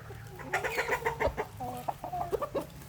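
Several Burmese game chickens cluck in quick, overlapping bursts close by, with a steady low hum in the background.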